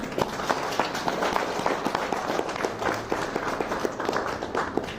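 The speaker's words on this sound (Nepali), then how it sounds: "परमेश्वरलाई हामी एकचोटि जोरदार तालीले धन्यवाद दिउँ।" A church congregation breaks into loud, sustained applause during a sermon, a dense crackle of many hands clapping that holds steady for the whole stretch with no voices over it.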